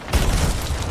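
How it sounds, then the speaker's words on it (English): Cannon fire in the pirate video game Sea of Thieves, a single loud, deep boom that hits abruptly and rolls into a rumbling roar, close and with no talk. "They're going to start shooting cannons."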